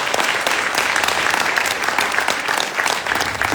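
Audience at a business conference in Almaty bursts into sustained applause, dense clapping filling the room evenly from start to finish.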